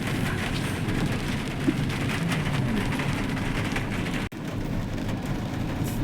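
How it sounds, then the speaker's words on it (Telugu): Steady rain falls in a constant, dense hiss that fills the whole stretch, with one brief dropout partway through. "మళ్ళీ స్టార్ట్ అవుతుంది వర్షం."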